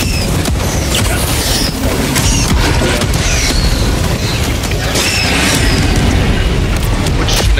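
Orbital strike in Helldivers 2 bombarding the ground with a dense series of loud, booming explosions and mechanical rattles, close and continuous for several seconds.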